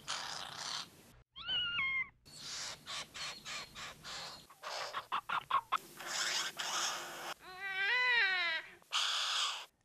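A western bowerbird in Australia's Northern Territory runs through a string of mimicked calls, catlike yowls, crow caws and clucking bursts, each distinct and separated by short pauses.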